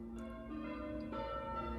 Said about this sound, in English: Historically, the ringing of bells was a call to church